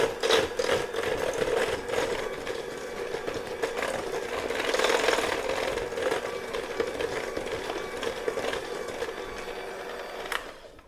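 Electric mixer beating frozen strawberries into cupcake batter, a steady buzzing motor whine with a rattling, chopping texture that rises and falls slightly, close and continuous until it stops near the end.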